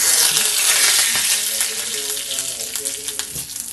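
Oil crackling and sizzling loudly as mustard seeds pop with curry leaves in a hot pan, steady throughout with scattered sharp pops.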